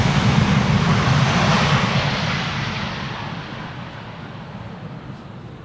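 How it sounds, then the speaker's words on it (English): A seven-year-old airliner arriving from Hanover at Amsterdam Schiphol Airport in crosswind roars loudly overhead as a broad engine rumble, then slowly fades as it passes. "Seven-year-old airplane arriving from Hanover"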